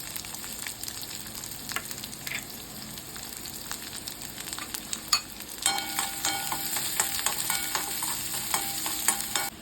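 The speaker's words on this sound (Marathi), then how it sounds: "आपण जो चिरलेला कांदा घेतला होता तो सुद्धा मी त्यामध्ये घालून घेते" Chopped onion fries in a pan with a steady crackling sizzle, and sharp spatula scrapes and stirs break through the sizzle. The frying grows louder and denser partway through.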